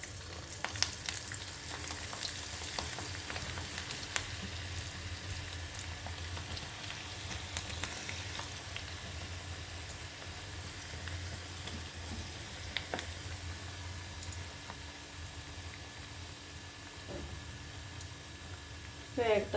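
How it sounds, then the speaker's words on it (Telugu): Aloo pakodi, potato fritters in rice-flour batter, frying in hot oil with a steady close sizzle and bubbling that runs throughout. "వేగటానికి ఒక 5 నిమిషాలు పడుతుంది."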